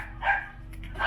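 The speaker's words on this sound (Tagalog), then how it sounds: "Yung si Starkey ko tumatahol" A dog in a home garden barks a few times, sharp yelps at moderate distance, spaced irregularly over a low background hum.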